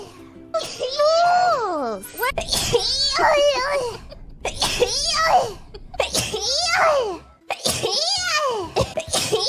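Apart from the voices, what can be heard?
sneeze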